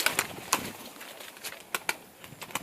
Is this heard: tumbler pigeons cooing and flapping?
yes